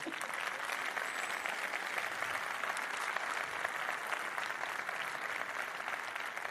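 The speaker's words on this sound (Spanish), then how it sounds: "Otro aplauso para ella, por favor." Steady, continuous applause from a conference audience fills the room at moderate distance, an even wash of many clapping hands for over six seconds.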